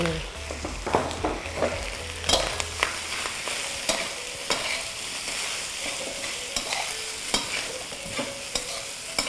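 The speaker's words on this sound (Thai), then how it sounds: "ใส่แหนมลงไปผัด สี่กระทะได้ที่แล้วคันนี้เราใส่ข้าว" Steady sizzling of rice and fermented pork sausage (naem) stir-fried in a hot pan, with repeated scraping and clanking of a spatula against metal throughout.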